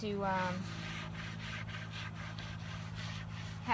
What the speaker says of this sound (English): to just sand it longer to get that smooth look